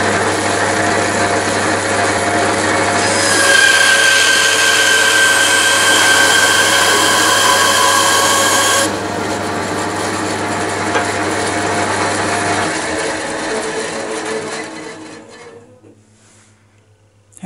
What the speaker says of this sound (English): Just going to cut a piece of wood and let's see what it's like with vibration and stability.